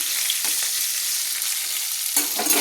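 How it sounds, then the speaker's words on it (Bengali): Potatoes fry in oil with a bright, continuous sizzle, broken by a couple of scraping stirs of a spoon through the pan. "তেলে ভেজে নেওয়ার জন্য আলুগুলো আমি তুলে নিলাম। দিয়ে একটু ভালো করে আমি নেড়ে নিলাম।"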